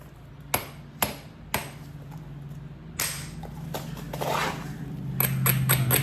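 A bopper striking stone while knapping arrowheads: three sharp, evenly spaced cracks, then more knocks and scraping, close and loud against a low hum.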